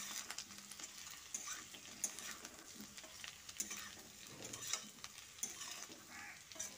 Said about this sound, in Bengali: তারপর ঢাকাটা খুলে আরও একবার নেড়ে চেড়ে নিচ্ছি।